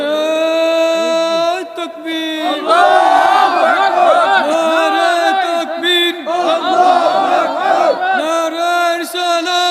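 A large crowd at an outdoor Islamic sermon gathering shouts takbir in unison, loud massed voices rising in long repeated chants after a brief lead call.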